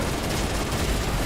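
Missiles launching and bursting in a space combat game, a dense, loud, continuous rumble of blasts over one short stretch with no pauses.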